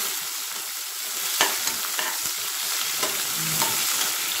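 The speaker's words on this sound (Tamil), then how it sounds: "வெங்காயம் சேர்த்துட்டு இன்னும் நல்லா வதக்கிடுங்க." Onions sautéing in a pan for cumin-seed semiya upma, a constant close sizzle with light spoon scrapes and taps as they are stirred, with no voices.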